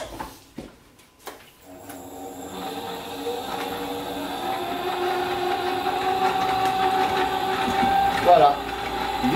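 An electric stand mixer beating egg whites and sugar at medium speed for sponge cakes, a few clicks and knocks at the start, then a steady whirring motor hum that builds and holds, with talk over it.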